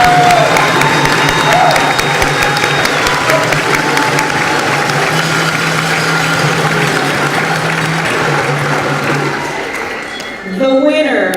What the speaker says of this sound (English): Please give a round of applause to these great organizations.